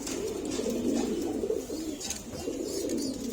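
Pigeons coo nearby in a loft, with low, throaty rolling calls that repeat in overlapping bursts against a faint background hum.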